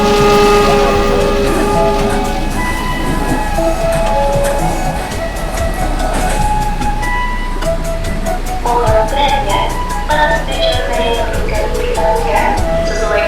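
A train in the PJL Simulator video game rumbles steadily past a level crossing, its horn sounding and wheels clicking rhythmically over the rails, loud and close throughout.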